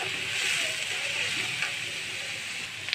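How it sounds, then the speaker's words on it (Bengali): Chopped onions frying in oil in a pan after fish has been fried, giving a steady, moderately loud sizzle throughout with no talking. "ওই তেলের সঙ্গে আমি এখানে যে পেঁয়াজ কুচিগুলো দিয়ে দিলাম"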